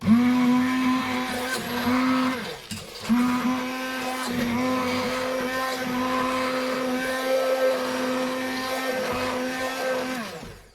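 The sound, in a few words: blender mixing jam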